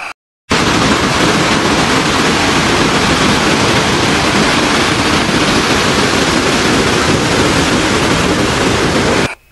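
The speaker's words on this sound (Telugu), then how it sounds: "నాకు మెయిన్గా ఇష్టమైంది ఏంటంటే వాటర్ ఫాల్స్ నుంచి వచ్చే సౌండ్." Montmorency Falls in Quebec roars in a steady, loud, broadband rush of falling water that holds constant throughout after a brief quiet start, with no voices.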